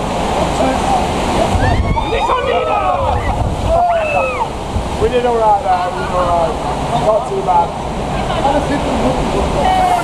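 Loud rushing, splashing water fills the River Quest rapids ride, with wind buffeting the microphone and excited riders talking and calling out over the roar.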